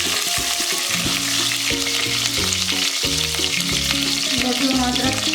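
Curry leaves, fenugreek seeds, cumin and mustard seeds sizzle in hot oil for a mashed red pumpkin dish, a continuous bright crackling hiss running under loud background music throughout.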